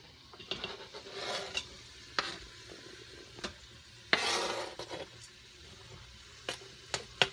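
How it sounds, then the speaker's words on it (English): Cooked peppers being added and stirred into beef pumpkin chili in an Instant Pot pot, with scattered scraping and clinking spoon strokes and a soft sizzle between them, all fairly quiet with no talking. "start adding in the peppers that I've already cooked"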